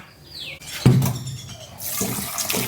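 Banana blossom that had been soaked in salt and lime juice is rinsed under a running tap. The water starts as a sudden splash, then becomes a steady, close gush with a few clatters.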